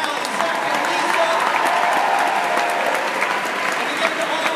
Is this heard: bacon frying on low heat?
no